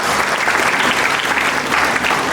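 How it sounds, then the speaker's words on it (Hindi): Students at a college event in Himachal give loud, sustained applause, a thick, even roar of many hands clapping close by with no letup. "मैं चाहूँगा अपने लिए आप लोग ज़ोरदार तालियां बजा दीजिएगा"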